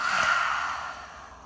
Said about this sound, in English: really make an H-A-ah sound as you exhale